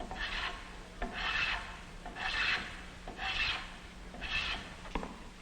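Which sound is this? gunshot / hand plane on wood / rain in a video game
hand plane on wood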